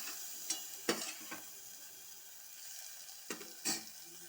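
Spices with turmeric fry in a pan under a quiet sizzle, broken by several sharp scraping strokes of a spatula, two close together early and two more near the end, no voices.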